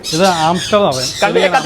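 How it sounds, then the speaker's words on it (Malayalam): Birds in a pet shop let out three loud, drawn-out squawks close by, one after another with short gaps. "എന്റെ ബാക്കിൽ കാണുന്നത് ഫുള്ള് ബേർഡ്സ് ആണ് കേട്ടോ"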